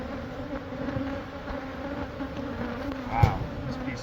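Bees buzz in a dense, continuous drone close by while a massive beehive is removed from a Catholic church, with a soft thump partway through.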